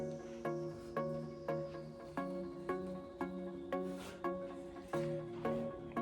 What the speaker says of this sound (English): Peel this off.